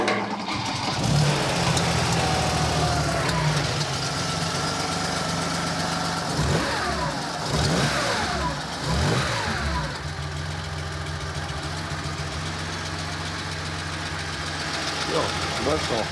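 A roughly 30-year-old Porsche's engine cranks, catches and settles into a slightly uneven idle, close and loud throughout, with people talking over it.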